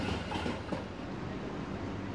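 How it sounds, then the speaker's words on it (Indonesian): The Ambarawa Express train at Lamongan station gives a faint, steady low rumble of rolling carriages with soft rail clatter, quiet and continuous with no voices. "kereta Ambarawa Express dijadwalkan singgah di stasiun Lamongan selama 3 menit saja"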